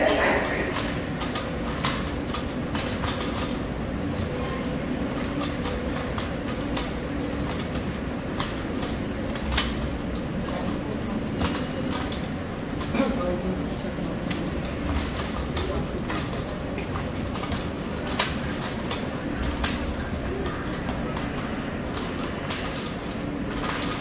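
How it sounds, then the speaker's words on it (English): An F local subway train runs toward Jamaica-179th St, a continuous rumbling, rattling roar with scattered clicks and squeals that holds steady at close range throughout. "179th Street bound F local train"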